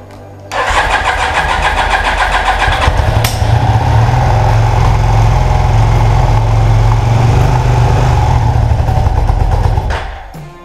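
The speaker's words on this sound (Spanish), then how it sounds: "vamos a ver cómo gira el motor lo primero" Honda CB 450 DX motorcycle engine cranks and catches, then runs with a loud, steady, throaty rumble up close for several seconds before shutting off.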